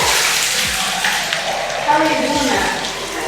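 Hot spring water, around 45 to 50 degrees Celsius, constantly flowing in a Tbilisi bath house, a steady close rush and splash that continues throughout while a person speaks over it.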